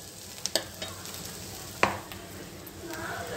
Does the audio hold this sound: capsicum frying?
yes